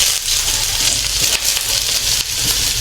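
Two medium onions sautéing for chicken tinola in a hot pan, a loud, steady close sizzle with faint stirring scrapes and no talking.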